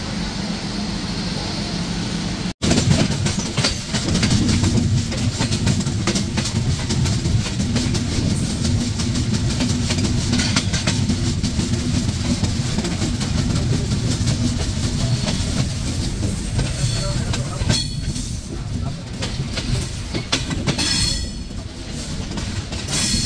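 Padma Express passenger train rolling into the curved Ishwardi Bypass railway station, with a loud continuous rumble of wheels and carriages, squealing rails and clattering joints, and a sharp bang early on.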